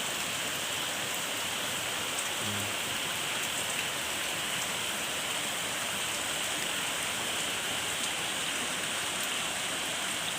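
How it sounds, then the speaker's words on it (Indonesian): Light drizzling rain falls at night, a steady, even hiss of drops that continues unbroken throughout at a soft, moderate level. "ya suara gerimis hujan yang masih terdengar"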